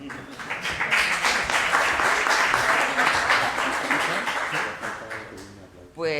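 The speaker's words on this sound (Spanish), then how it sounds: "en serio, un aplauso." An audience at a university event on migration and human rights keeps up strong, continuous clapping that gradually thins toward the end, with a voice starting to speak as it fades.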